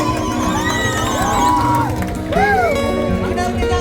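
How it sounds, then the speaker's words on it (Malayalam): A large crowd greets celebrities Gabri and Jasmin at an inauguration event in Palakkad, cheering loudly with steady whoops and shouts that rise and fall and never let up. "സോ ആദ്യം തന്നെ അവർക്കൊരു അടിപൊളി കയ്യടിയോടെ സ്വീകരിക്കാം. ഒരു കയ്യടി കൊടുത്തേ."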